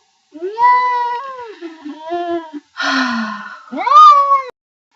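A house cat yowls loudly and insistently, giving four drawn-out, rising-and-falling meows in quick succession close to the listener. Nobody talks over it.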